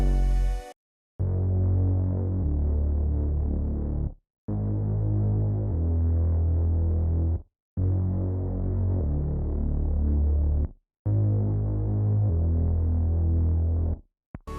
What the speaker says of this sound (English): It's a nice gritty bass, and that's what you kind of want for these kind of rage beats